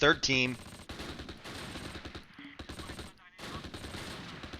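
Gunfire in the World War II strategy game Close Combat Last Stand Arnhem: a loud burst of rapid, close shots at the start, then dense continuing battle noise with muffled bursts and rumbling under possible voices.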